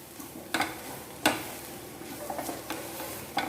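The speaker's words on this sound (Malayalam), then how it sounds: "പച്ചമണം മാറുന്ന വരെ നന്നായി വഴറ്റുക." Kerala-style mushroom masala is sautéed and stirred in a pan, with a soft continuous sizzle and several distinct scraping strokes of a spoon, heard close up.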